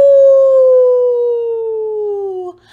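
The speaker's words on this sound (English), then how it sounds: "A howl echoed through the park." A wolf-howl sound effect from a read-aloud children's story: one long, loud, close howl that holds a clear tone and slowly slides downward before cutting off.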